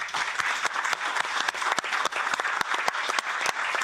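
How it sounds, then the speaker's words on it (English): Dense audience applause for a panel at a policy conference on responsible research and innovation, a steady wash of many hands clapping close and loud for the whole stretch, with scattered sharper individual claps. "So a big applause for our panel."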